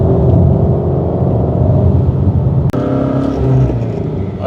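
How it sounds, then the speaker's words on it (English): A Ford Mustang Shelby GT350 is driven at higher than normal revs, its engine and exhaust note a loud, continuous, close-up rumbling drone heard from inside the car, with one brief dropout and no talking. "I'm gonna keep it at a higher revs than normal just so you can see that awesome exhaust note."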